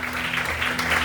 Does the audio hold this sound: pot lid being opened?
no